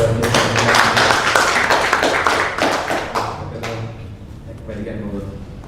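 An audience at a provincial government seminar applauds a presenter, a loud burst of many hands clapping that thins and fades toward the end while voices murmur beneath.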